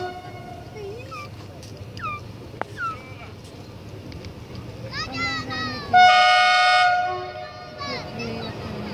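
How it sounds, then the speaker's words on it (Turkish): A freight train rolls past on tracks in Adana, Türkiye, its horn sounding a loud, sustained blast about two-thirds through amid steady rumble, with people talking and scattered street sounds around it. "Yük treni."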